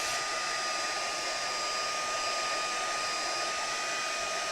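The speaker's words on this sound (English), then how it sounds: "I'm just going to grab my heat tool again. And I'm just going to dry that off." A heat tool blows steadily to dry ink on a sheet of vellum, giving a constant, even whoosh of hot air close by with no talking over it.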